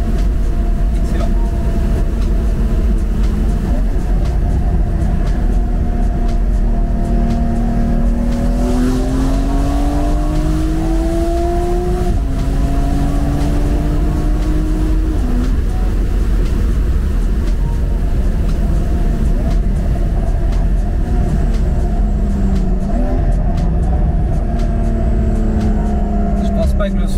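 Porsche 992 Carrera 4 with a stage 2 tune, engine accelerating hard and smoothly, the exhaust note rising in steady sweeps heard from inside the car beneath continuous road rumble, with people talking over it.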